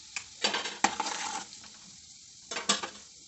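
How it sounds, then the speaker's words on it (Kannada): Urad dal fries in hot oil in a pan, a soft sizzle broken by bursts of stirring scrapes, two clusters of clatter with a quieter fizzing gap between, close and alone. "ಒಂದು ಉದ್ದಿನಬೇಳೆ ಸ್ವಲ್ಪ ಫ್ರೈ ಮಾಡಿ"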